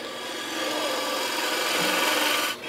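Hollowing out the centre of a wooden goblet on a lathe, a steady scraping and rasping cut of the tool in the spinning wood that continues for a few seconds before easing off at the end.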